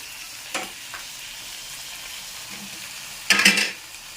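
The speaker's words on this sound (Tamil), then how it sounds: "இது நல்லா வதக்கணும்" Food sautéing in a pan with a soft sizzle, interrupted by a couple of louder stirring scrapes.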